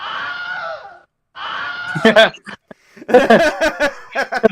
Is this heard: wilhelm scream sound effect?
yes